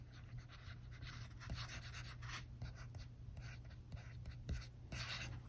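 A stylus scratches across a reMarkable paper tablet in quiet, papery strokes and taps, close up and soft, with irregular bursts of writing and small pauses between marks.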